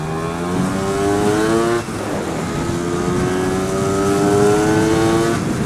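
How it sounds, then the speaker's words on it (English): A Lambretta scooter engine running close by with a steady droning tone that stumbles and misses once partway through before settling back into an uneven, slightly wavering idle. "rather than just a constant solid purr, it's sort of misses a little bit"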